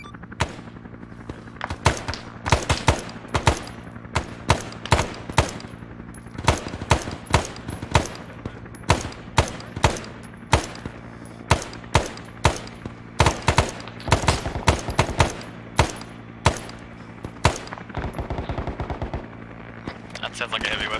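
Heavy weapon fire in the video game Arma 3, in a SOG Prairie Fire jungle combat setting: a long string of loud, sharp gunshot bursts, some rapid and some spaced, rattling continuously under occasional radio talk.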